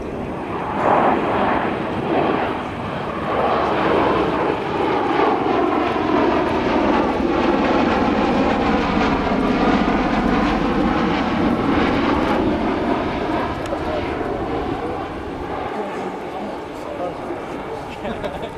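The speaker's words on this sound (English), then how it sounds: "Let's take a look and listen to the Air Force's CV-22 Osprey." A CV-22 Osprey tiltrotor aircraft at an airshow: loud roar with a deep rotor thrum, rising and shifting in pitch as it passes close by, steady throughout with no talk.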